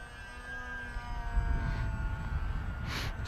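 A C1 Chaser RC model airplane cruising at about a third throttle on its maiden flight, a thin electric motor whine with a steady pitch that swells slightly as it passes, heard outdoors at moderate distance.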